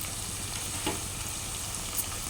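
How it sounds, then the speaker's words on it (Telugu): Ginger being added to a sizzling pan for mutton curry: steady close frying hiss throughout, with a couple of brief spatters and stirring knocks over the continuous sizzle, no talk. "తగినంత అల్లం వేసుకుంటున్నాను"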